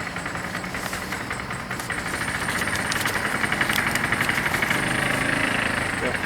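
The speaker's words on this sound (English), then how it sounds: "Little motor scooter as a musical accompaniment." A small motor scooter engine drones steadily with a buzzing, rattling tone that grows slightly louder over several seconds, with no voices.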